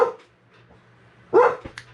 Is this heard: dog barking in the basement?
yes